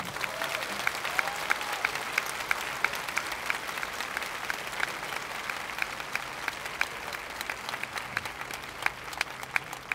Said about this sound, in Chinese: 我们大家给他们掌声。